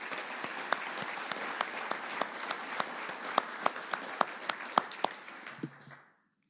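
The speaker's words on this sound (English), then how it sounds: "Let's give Sean a round of applause." Audience applause at a Texas impaired driving summit, a steady wash of clapping with a few sharp individual claps standing out, lasting about five seconds before fading out to silence.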